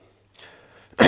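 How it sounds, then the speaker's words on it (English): A single sharp cough from a man with a cold, loud and abrupt at the very end after a faint breathy lead-in. "hence the cough"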